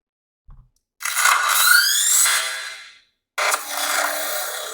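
A modified K.Y. toy lightsaber fitted with a Proffie sound board powers on with a bright electronic ignition swell that rises, sustains, and cuts off, followed by a second burst of buzzing hum, loud and close with no talking.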